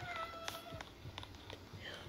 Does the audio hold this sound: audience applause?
no